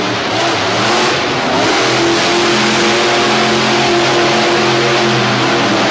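A Chevy race truck from Nebraska revs hard on a dirt track during a monster truck event, its loud mid-pitched engine roaring steadily and close up, with continuous throttle and no voices.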